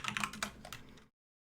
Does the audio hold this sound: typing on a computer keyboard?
yes